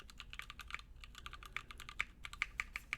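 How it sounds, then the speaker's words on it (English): Firm, crisp keystrokes on a Legacy45 mechanical keyboard tap out in an irregular, quick rhythm, close and clear with no talking. "Very firm typing experience"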